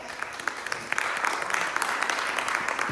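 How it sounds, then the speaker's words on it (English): A crowd claps for the city treasurer, city clerk and council district candidates at a candidate forum, starting as a lighter patter and then swelling into a dense, sustained round of applause that runs steadily. "let's give them all a round of applause"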